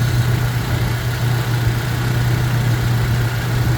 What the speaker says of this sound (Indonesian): Suara mesinnya betul-betul halus